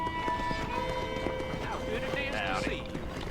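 Stagecoach horses in Red Dead Redemption, hooves clip-clopping in a quick rhythmic patter against a game ambience with tonal music, a brief whinny-like sweep toward the end.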